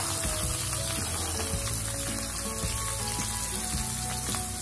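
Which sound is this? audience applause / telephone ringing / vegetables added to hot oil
vegetables added to hot oil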